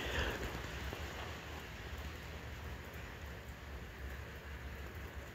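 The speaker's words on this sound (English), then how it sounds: "Yep, in the rain." Rain falling outdoors on a Sunday night, a faint, steady hiss of drops with a soft rumble underneath and no distinct events or voices.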